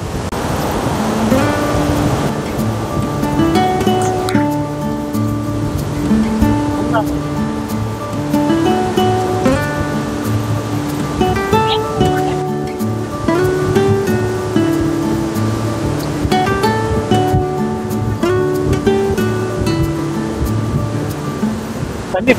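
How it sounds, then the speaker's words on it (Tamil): Water rushes and splashes steadily around a fast-moving boat off Langkawi, Malaysia, a constant loud churning with an engine drone underneath and no break. "வேகமா போறாது, நல்லா தண்ணி அடிக்குது."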